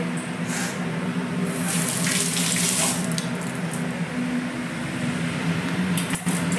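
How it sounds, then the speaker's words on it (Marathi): Dishes being scrubbed under a steadily running kitchen tap while cooking a spiced urad bean curry, water hissing continuously and close throughout, with no one talking. "इकडे भांडे पण घासून घेतले."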